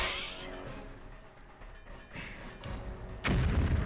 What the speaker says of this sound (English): Let's throw another grenade.